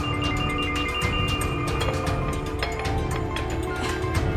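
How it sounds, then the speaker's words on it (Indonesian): A phone ringtone plays steadily as a continuous electronic tone pattern with a busy backing, moderately loud, with no one speaking over it. "Bentar ya Mbak, ada telepon."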